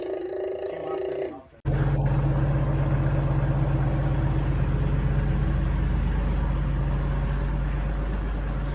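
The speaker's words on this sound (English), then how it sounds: "Tractor's coming." A tractor engine idling steadily on a farm, a loud continuous low rumble that kicks in abruptly after a brief quieter moment and holds for several seconds, close by.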